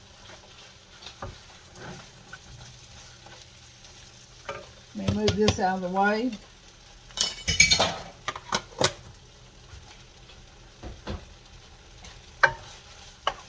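Onions sizzle softly as they sauté in a pan for shepherd's pie while utensils clatter and a pan is shifted. A person speaks briefly partway through.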